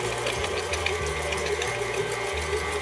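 An electric stand mixer whisks softened butter and brown sugar, giving a steady, continuous mechanical whir with a faint rhythmic beating close by.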